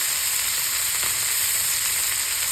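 Garlic, tomato and ginger frying in a pan give a steady, close, even sizzle that carries unbroken through the whole stretch with no voices.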